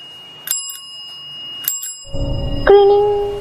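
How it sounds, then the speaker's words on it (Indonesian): A bicycle bell rings twice in short, bright bursts about a second apart. A low rumbling noise and a steady tone follow. "Kami dikagetkan dengan bunyi bel sepeda dari arah selatan."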